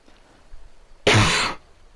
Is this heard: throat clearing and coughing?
yes